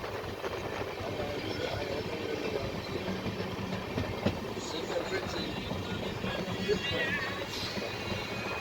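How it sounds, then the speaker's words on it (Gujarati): Indore-Daund Express passenger train rolling on the rails, a steady close rumble with light clickety-clack and some faint background chatter throughout. "મિત્રો 9 વાગે એટલે અમારી ટ્રેન ધીમી પડી"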